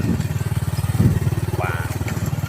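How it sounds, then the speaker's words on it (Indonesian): A motorcycle engine idles close by with a steady, throbbing pulse at a scenic lookout, loud and continuous, with a faint voice briefly over it. "Ya motornya tuh sampai di sini"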